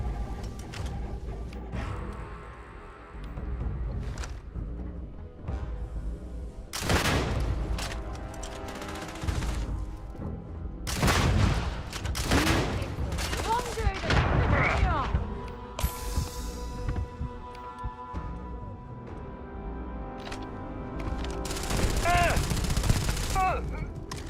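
Gunfire from a weapon in the space game Starfield comes in several loud bursts and single shots spread across the stretch, with mechanical clanks and booms between them, and someone talks quietly in places.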